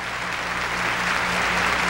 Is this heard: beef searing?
no